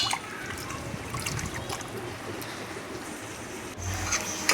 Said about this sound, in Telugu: మటన్ని తీసుకొని ఒక గిన్నెలోకి తీసుకొని వాటర్ పోసుకొని బాగా వాష్ చేసుకొని